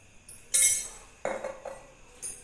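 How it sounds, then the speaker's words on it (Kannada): A spoon clinks against a dish as half a spoonful of cumin powder goes into sweet corn chaat, giving a few sharp, close metallic taps separated by short pauses. "ಒಂದು ಅರ್ಧ ಸ್ಪೂನಷ್ಟು ಜೀರಿಗೆ ಪುಡಿ ಹಾಕ್ತಾ ಇದ್ದೀನಿ"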